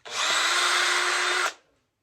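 Power drill boring out holes while fixing electric fence parts, one loud, steady high whine lasting about a second and a half before cutting off and fading, close by and alone with no voices.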